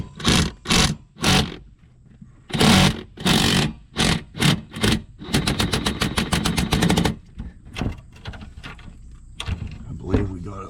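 Broken exhaust manifold bolts being removed with a 1/2 inch 6-point socket on an air tool, loud close bursts of rattling hammering, then a long steady buzzing rattle and shorter clicks.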